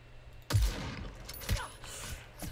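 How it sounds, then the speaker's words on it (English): Video game gunfire in Super People, with two sharp shots or short bursts about a second apart ringing over a quiet, faintly noisy background. "I'm getting shot at from behind."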